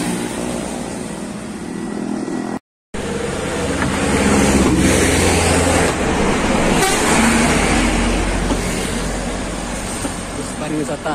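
A tourist bus horn sounds amid loud roadside traffic and engine noise at a Bukittinggi departure, with a brief dropout early and a busy, continuous road din throughout.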